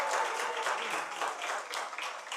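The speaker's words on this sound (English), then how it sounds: "A round of applause for Umvuzo." An audience at a poetry slam competition applauds for a South African poet, a steady wash of many hands clapping at moderate loudness with no speech over it.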